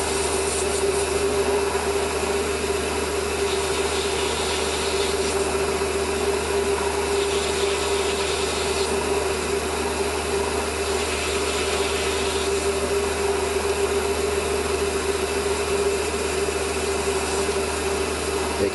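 A small metal part for a model Webster engine is machined, a steady motor hum with a constant tone and faint rhythmic cutting swells, continuous and close, with no talk.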